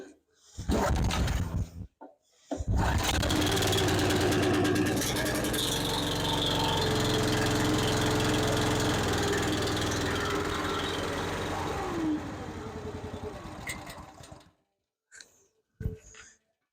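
Vehicle engine idling while warming up before an oil change, a steady loud running drone with a faint whine, starting after a few clicks and knocks and cutting off near the end.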